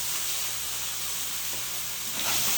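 Zucchini in a hot pan gives a steady, close sizzle and hiss that swells louder near the end, with no voices.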